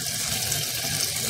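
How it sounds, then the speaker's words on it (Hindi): A tap runs steadily as water is poured into a pot for beef haleem, giving a close, continuous splashing rush with no talking. "अब मैं इसके अंदर पानी ऐड कर रही हूँ।"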